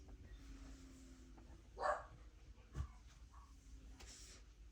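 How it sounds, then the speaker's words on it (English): A sick dog strains to bark but manages only a faint, muffled yelp and a brief thump, both quiet and isolated in a hushed room with no talking. "She's trying to bark, but she couldn't."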